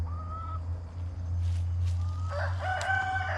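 A rooster crows in a backyard flock of chickens, with one shorter call and then a longer, louder crow, both over a steady low hum.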